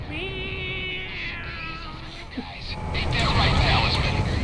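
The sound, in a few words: cat meowing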